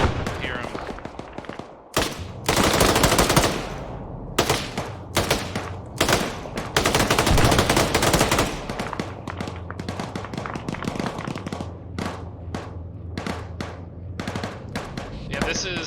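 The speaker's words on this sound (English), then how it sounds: "It sounds like a fucking BMP or something. Definitely an autocannon vehicle to the northwest." Autocannon fire from a BMP vehicle in ArmA 3 rattles in loud, rapid bursts with sharp single shots between, some close and some distant, with voices talking over parts of it.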